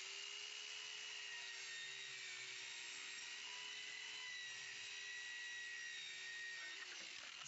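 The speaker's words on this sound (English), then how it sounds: "Watch the dual saw." A DualTools CS450 dual saw plunge cutting into a solid door, a steady high-pitched whining grind that holds at fairly even volume throughout, fading slightly as the cut finishes.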